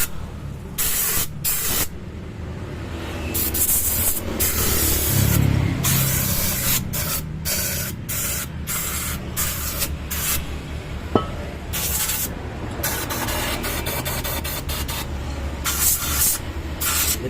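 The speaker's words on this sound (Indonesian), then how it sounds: "Saya semprot pakai kompresor." Compressed air from an air compressor blasts a clogged Rinnai gas stove burner clean. Loud, close hissing sprays come in repeated bursts separated by short pauses.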